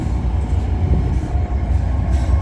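A passenger train of four coaches with a locomotive at the rear rolls past at night, a loud continuous rumble of wheels and engine without any talking.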